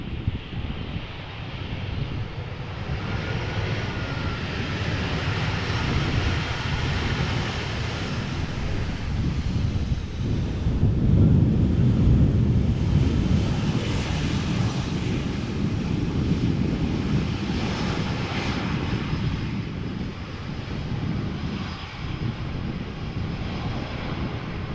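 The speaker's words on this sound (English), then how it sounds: "A320, inbound from Madrid, touching down after nearly 2 hours of flight" An Airbus A320, nine years old and inbound from Madrid after nearly two hours, touches down at Amsterdam Schiphol: a steady, broad jet engine roar with wind noise that swells around the middle and holds through the landing roll.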